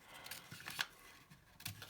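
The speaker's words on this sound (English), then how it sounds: "Snip the solid line" Scissors snip a solid line through paper for a vertical loop craft, giving a few quiet, crisp cuts spaced irregularly over a couple of seconds with faint rustling between.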